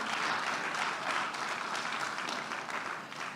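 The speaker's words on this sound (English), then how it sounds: "Please, can we give them a round of applause" Conference audience breaks into applause, a dense sustained wash of clapping that stays steady and full throughout before thinning slightly at the end, with no voices on top.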